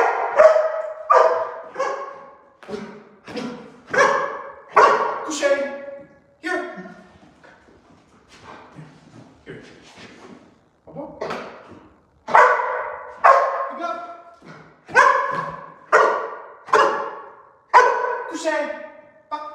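A Malinois barks repeatedly during trick training, sharp bursts coming in quick runs, a short lull, then another steady volley, close and loud.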